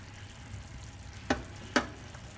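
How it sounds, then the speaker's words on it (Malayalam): Chicken frying in a pan sizzles softly and steadily, then two sharp, brief splashes and crackles come as beaten thick yogurt is added. "എന്നിട്ട് നമ്മൾ കട്ട തൈര്, അത് നല്ല ബീറ്റ് ചെയ്ത് വെച്ചിരിക്കുന്ന തൈര് അതിലേക്ക് ആഡ് ചെയ്യും"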